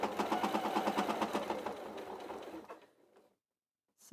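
A sewing machine runs steady rapid stitches through bag fabric, close and fairly loud, for nearly three seconds, then slows and stops into silence.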